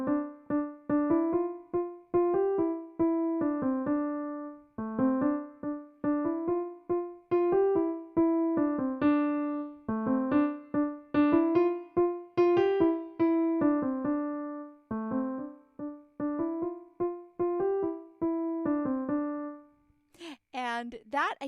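A beginner piano arrangement plays solo: clear, evenly spaced notes in a driving repeated rhythm, then a brief voice at the very end.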